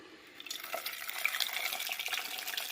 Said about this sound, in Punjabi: ਪਾਣੀ ਪਾ ਕੇ ਇਹਨੂੰ ਕੀ ਕਰਾਂਗੇ ਧੋ ਲਾਂਗੇ ਥੋੜਾ ਜਿਹਾ